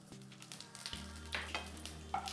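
Bay leaf and two dry red chillies splutter in two spoons of hot oil for an Odia cauliflower curry, giving a steady close sizzle with sharper crackling pops scattered through it.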